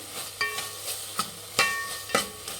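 Tomatoes frying and being stirred in a pan for a Mysore-style thili saaru, with a soft sizzle under four or five distinct scraping stirs spaced roughly half a second apart, close and moderately quiet.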